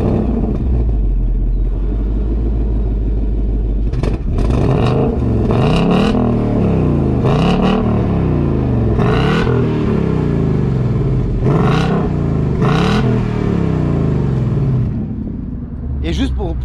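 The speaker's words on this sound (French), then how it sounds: "on va écouter ce que ça fait derrière à l'échappement" A V8 Ford Mustang convertible revs hard through its four exhaust pipes, with loud, close, repeated throttle blips rising and falling over a deep steady rumble, about six or seven bursts in a row.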